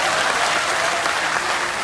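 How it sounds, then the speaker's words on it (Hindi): An audience breaks into dense, continuous applause, loud and sustained throughout with no pauses and no voices standing out. "अब बनती है तालियां देश के लिए।"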